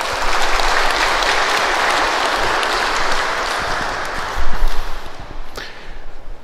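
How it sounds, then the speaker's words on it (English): A church audience gives a sustained round of applause, dense and steady clapping from a crowd that swells briefly near the end before tapering off. "can we please give Father Mark a round of applause?"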